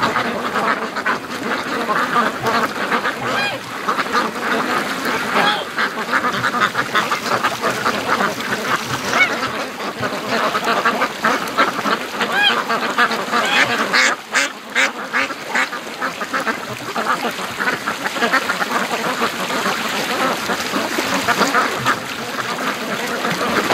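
Free-range ducks quack steadily near a lake edge with thin ice, a dense, continuous chorus of calls and splashy activity close by, with no talking.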